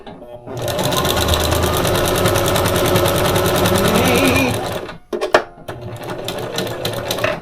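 A sewing machine runs steadily for several seconds, stitching fabric for a miniature couch, then breaks into short bursts of stitching. Talk is heard briefly near the end.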